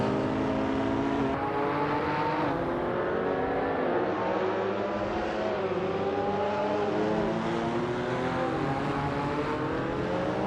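A 1985 Peugeot 205 T16 rally car in a racing video game drones at high revs, its engine note rising and shifting in a steady, continuous roar with no pauses.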